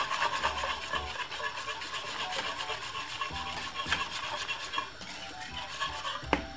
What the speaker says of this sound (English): I'm just gonna simply take my little time, keep stirring it until it gets thick